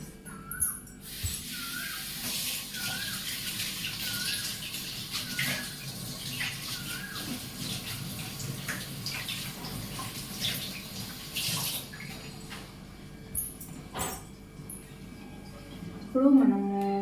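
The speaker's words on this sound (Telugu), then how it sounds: "హ్యాండ్ వాష్ చేసుకోవాలి." Hands are washed under a running kitchen tap: a steady, soft hiss of flowing water lasts about twelve seconds, then cuts off, leaving a few light clinks and quiet room noise.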